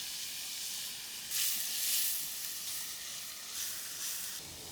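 Onion and garlic paste sizzles in hot oil in a kadai while fish is being cooked, a steady bright hiss that surges louder in a couple of bursts, with no voices.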